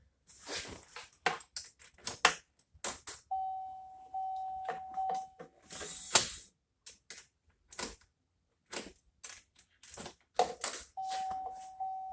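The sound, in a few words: bolting seats into a 1989 Volvo 760 Turbo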